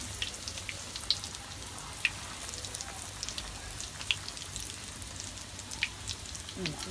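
Steady crackling sizzle of fried parcha, a Bakra Eid dish of already-tender meat coated in maida, cooking in hot oil until golden brown, with a dense even hiss and occasional sharper pops close by.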